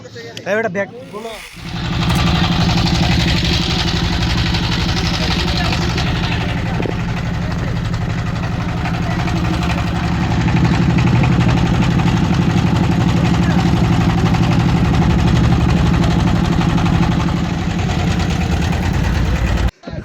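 A river-crossing boat's engine drones loudly and steadily for most of the ride, a low continuous rumble that fades out at the very end.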